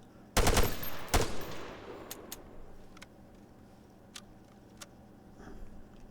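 Full-auto gunfire in a video game: two loud, close bursts of rapid shots up front, then scattered faint clicks and distant single pops over a quiet background.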